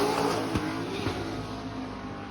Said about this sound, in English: when you hear this car moving